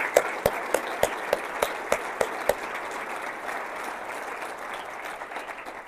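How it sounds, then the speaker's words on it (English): An audience at a city address applauds emergency services: a few loud, sharp claps ring out evenly at first, then blend into a sustained, softer wash of crowd clapping. "I think we should give a huge round of applause for all of our emergency services"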